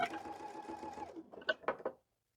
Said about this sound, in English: put my fabric back under the needle and sew again